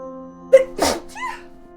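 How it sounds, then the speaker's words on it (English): A single sharp sneeze, a quick intake followed by an explosive burst, close to the microphone, with a faint steady hum underneath. "I have to sneeze."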